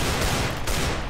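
Rapid gunfire from Counter-Strike: Global Offensive, a short dense burst of shots that fills the whole moment, loud and close.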